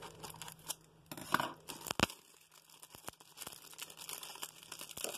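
Scissors snipping and plastic Easter packaging crinkling and tearing as it is opened, in quiet, close, irregular bursts with short pauses between cuts.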